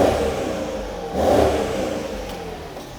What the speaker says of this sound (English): That's the sound of a V8 you want to hear.